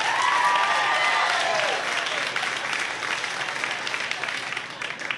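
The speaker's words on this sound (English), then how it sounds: "clap now. Under 50, please." Comedy show crowd breaks into loud clapping, with a brief whistle or whoop near the start, then the applause gradually thins and softens toward the end.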